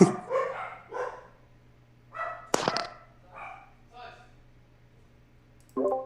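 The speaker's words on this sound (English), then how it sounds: "my dogs were freaking out again" Several dogs bark in short bursts spread across the moment, some near and loud, others softer, with brief yips between them and quiet gaps in between.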